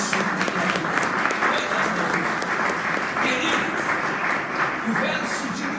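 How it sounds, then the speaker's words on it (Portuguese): A church congregation applauds loudly and continuously, a broad wash of many hands clapping, with voices mixed in among the clapping. "pode aplaudir o nosso Deus."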